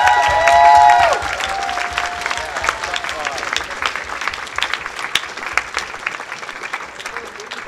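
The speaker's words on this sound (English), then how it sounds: "so a huge round of applause for them as well" An audience at a fan convention's closing ceremony breaks into sustained applause and cheering that fades into scattered clapping, with a crowd murmuring and a voice briefly audible at the start.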